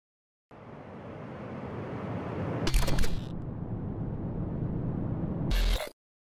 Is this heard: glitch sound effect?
yes